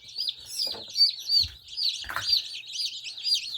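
Newly hatched chicks just lifted from an incubator cheep constantly in high, overlapping peeps, close by, with a few soft handling bumps and no talking.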